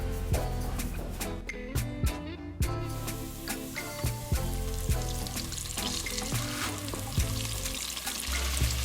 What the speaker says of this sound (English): While that lobster is frying away